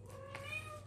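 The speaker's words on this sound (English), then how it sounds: "And my kitty cat, Penny." A pet cat gives a single drawn-out meow, close and clear, with no talking over it.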